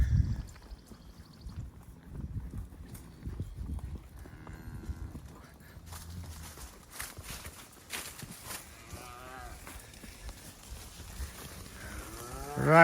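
A cow moos several times on a Colorado ranch during summer work, the calls spaced out over a steady outdoor background with rustling and hoof sounds nearby.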